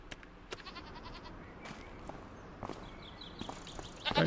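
Goats in a pen in Farming Simulator 25 let out a few short, quiet bleats spread across the stretch, mixed with light footstep-like taps and a louder burst near the end.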